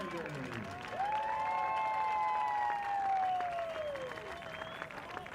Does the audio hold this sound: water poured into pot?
no